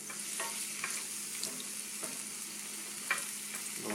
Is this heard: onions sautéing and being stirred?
yes